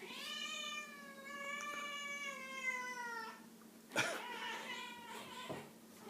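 A cat gives a long, drawn-out meow that wavers and slides down in pitch, then after a short pause a second, shorter and sharper meow, both close and clear.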